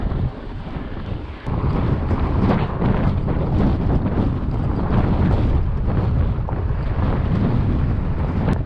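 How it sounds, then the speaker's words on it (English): A strong headwind roars across the microphone during a fat bike ride on a trail, a loud, continuous rushing buffet that never lets up. "Nice having a headwind now on the way out."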